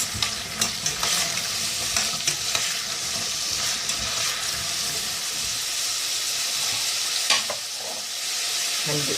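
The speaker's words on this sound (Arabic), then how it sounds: "بس كده هنضيف له البصلايه المفرومه. نشوحها كده كويس." Minced onion sizzles and fries in a pan with green fava beans, a loud steady hiss with repeated stirring scrapes and clinks over it, no voices.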